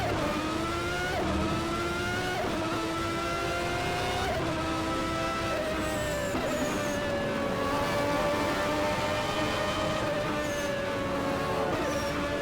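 A 1992 Ferrari F1 car in the rFactor racing game, its engine screaming at high revs with rising and falling pitch through gear changes, loud and continuous with some tire squeal.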